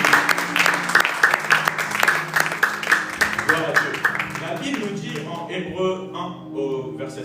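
A church congregation applauds together, a dense, loud patter of many hands clapping in a steady rhythm that thins and fades toward the end, with voices mixed in.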